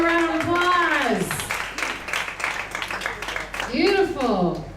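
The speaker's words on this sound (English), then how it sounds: "Everybody give them a round of applause." At a storytelling show in a bar venue, an audience claps in scattered bursts, moderately close, while excited voices and a cheering shout rise over and between the applause.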